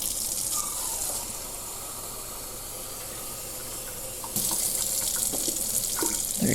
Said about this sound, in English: I think we'll water them right about now.